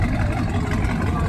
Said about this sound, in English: the one thing that my boat sorely lacks is a nice engine sound like that